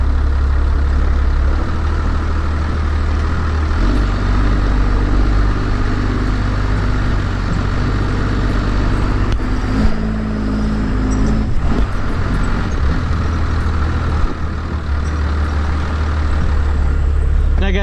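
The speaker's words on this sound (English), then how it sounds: "this is the most off-road this truck's ever been" A Cummins diesel pickup in 4-wheel drive rumbles steadily along an off-road trail, its deep engine drone loud and constant with a few faint knocks and rattles from the truck.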